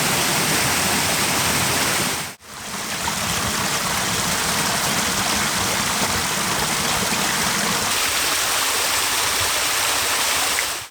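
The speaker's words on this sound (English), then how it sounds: "Here, the water drops cleanly over a darker sandstone ledge into a narrow pool below." A small winter stream in High Weald forest pours over a dark sandstone ledge into a narrow pool, a steady, loud, close rush of falling water with a brief dropout partway through.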